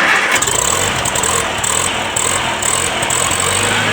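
A Turf Hog TH60 bush hog engine being cranked and running, a steady loud mechanical drone close by with a brief starting surge at the beginning, no talking.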